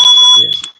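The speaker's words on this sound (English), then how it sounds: "It sounds like some kind of alarm." A smoke alarm beeps loud and close: a piercing steady electronic tone that holds through most of the moment and then stops abruptly, with a voice starting underneath as it cuts out.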